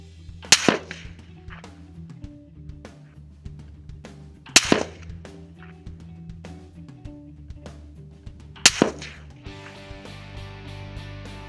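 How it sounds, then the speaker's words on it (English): Three sharp rifle shots at a shooting range, spaced about four seconds apart, each a loud crack with a short ringing tail over quiet background hum. "I'm going to walk back up to the range, shoot that 3-shot group"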